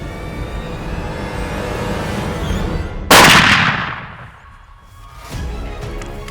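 A single loud rifle shot at a buffalo on a safari hunt, sharp and close, with a long fading rumble afterward over steady outdoor background noise.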